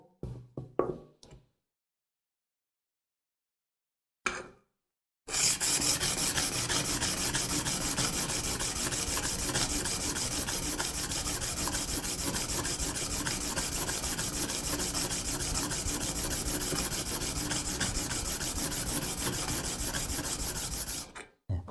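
A hand plane blade being ground on a sharpening stone for Korean wood joinery furniture work: a steady, continuous abrasive rasping runs close and loud for about sixteen seconds after a few brief scrapes and a pause.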